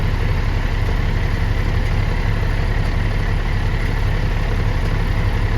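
A foundation company's truck engine pulls steadily at about 2,500 RPM climbing a steep grade, a constant low droning roar with no pauses, close and loud, with no talk heard.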